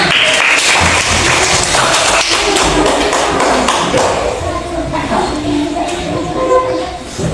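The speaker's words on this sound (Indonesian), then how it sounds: "Oke, tepuk tangan untuk teman." Students in a classroom applaud a classmate with a dense burst of hand claps and taps, loud at first and thinning out, with some voices mixed in.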